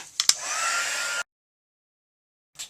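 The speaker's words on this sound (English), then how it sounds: "let's get the heat tool back in here and do some more embossing." A heat embossing tool blows hot air for just over a second, a steady loud whoosh that cuts off abruptly, followed by silence and a brief restart at the end.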